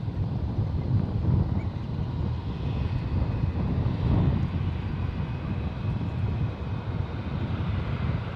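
United heavy airliner landing on runway 28 right at San Francisco International Airport, a broad low jet roar rolling in and out with gusty wind buffeting the microphone, steady throughout with no talking.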